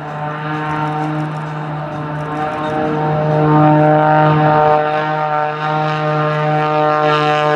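A Pitts Special biplane's engine and propeller drone loudly overhead during an airshow display at Weston Park, a strong buzzing tone that swells and eases as the aircraft passes.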